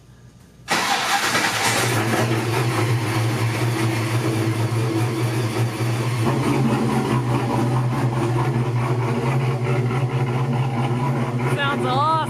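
A supercharged LS engine turns over and catches, then settles into a loud, lumpy, choppy idle with a steady blower whine riding above it; excited voices talk over the running engine near the end.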